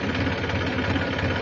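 Tractor engine running while driving through flood water, a steady, close, low throbbing idle with a regular knocking pulse and no voices.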